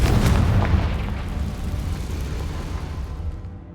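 A Confringo fire-blast spell detonates in Hogwarts Legacy with a loud booming burst, its heavy low rumble trailing off over several seconds with no voices present.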